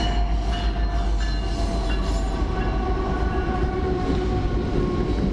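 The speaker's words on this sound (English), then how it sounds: "here comes the train" A train passes close by a railroad crossing, producing a steady loud rumble of wagons and wheels with a faint horn tone running through the passage.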